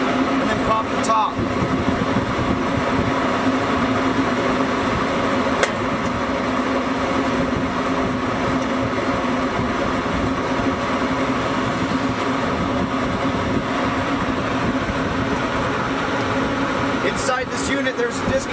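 A rooftop exhaust fan runs with a loud, steady mechanical drone and hum close by, broken by a few brief clicks and knocks.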